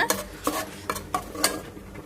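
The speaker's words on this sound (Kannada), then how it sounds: "ಅದನ್ನು ಎಣ್ಣೆಲಿ ಹಾಕಿ ಚೆನ್ನಾಗಿ ಸ್ವಲ್ಪ ಒಂದೆರಡು ನಿಮಿಷ ಹುರ್ಕೊಳ್ಳೋಣ" Onion-garlic paste frying in a pan of oil, with a spoon scraping and stirring in quick, regular strokes, close and clear with no talking.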